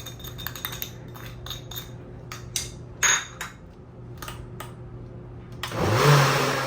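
Mixer grinder crushing moong dal batter with ginger and green chili, a string of short clicks and knocks before a loud motor burst whirs up near the end, close by, with no talking.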